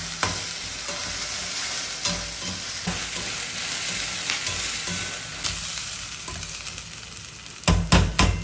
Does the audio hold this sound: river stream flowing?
no